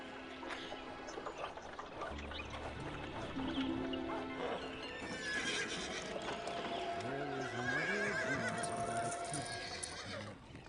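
Horses neighing and whinnying in the city-building game Zeus: Master of Olympus, with clip-clop hooves and layered game ambience and music running steadily throughout.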